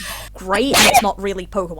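A single sharp sneeze bursts out in the middle of someone talking, close and loud, with speech continuing before and after.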